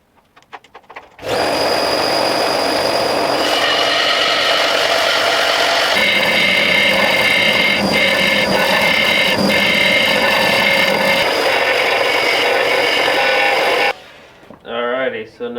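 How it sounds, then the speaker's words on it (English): A belt sander grinds down a steel caster wheel on a Harbor Freight welding cart, a loud continuous abrasive whine that holds steady for about twelve seconds before cutting off, with a few quiet words after. "I'm just gonna turn this thing down a little bit on my belt sander here"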